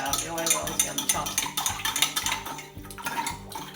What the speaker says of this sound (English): So I'll mix together the water and the oil.